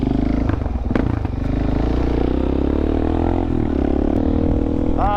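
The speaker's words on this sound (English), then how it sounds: "2017 DRZ 400S. It's the dirt bike model, not the supermoto model." A 2017 Suzuki DRZ 400S dirt bike rides on dirt, its single-cylinder engine droning loud and close with rising and falling revs, plus clatter of the ride and wind buffeting.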